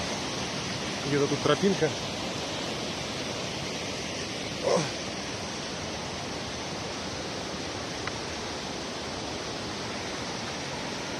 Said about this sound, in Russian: Речка Громотуха. Вот. Такая вот речка.